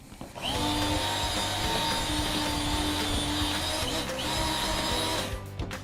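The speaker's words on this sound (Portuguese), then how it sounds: "Agora a batedeira, mais um pouquinho." A steady electric kitchen mixer motor whirs continuously for several seconds with a constant hum, slight dip mid-way, and no talking.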